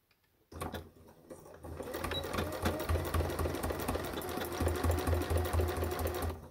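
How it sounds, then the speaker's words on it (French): A sewing machine runs steadily as it stitches a handbag with a 1 cm seam, a close, continuous mechanical whir with rapid needle clatter that starts abruptly after a short pause and holds an even pace. "on va coudre à 1 cm"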